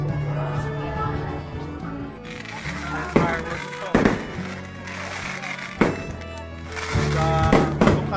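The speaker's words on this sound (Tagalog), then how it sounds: "Fireworks" Fireworks burst repeatedly at irregular intervals at a wedding reception, sharp booms and crackles over a steady background of music and murmuring voices.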